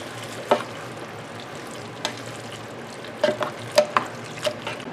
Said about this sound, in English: Add in the whole can, and then what you want to do is stir it around.